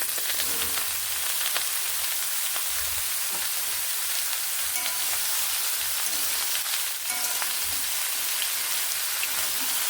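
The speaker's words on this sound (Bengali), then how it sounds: "এবার এখানে আমি সবজিগুলোকে ছেড়ে দিচ্ছি" Vegetables dropped into hot oil in a pan for a spice-free vegetarian dish, giving a loud, dense, continuous sizzle with faint scraping and stirring clicks.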